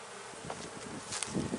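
Honey bees buzz at a hive that survived the winter on only four frames, a soft, steady drone with a few louder passes close by, no talking over it.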